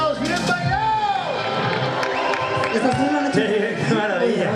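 A concert audience at a live orquesta show in Vedra, La Coruña, Galicia applauds and cheers loudly and steadily, a dense wash of clapping and whoops with voices mixed throughout.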